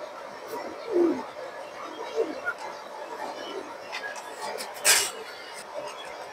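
Pigeons of a fancy pet breed give low soft coos near a handler, a few brief calls over steady background chatter while someone talks.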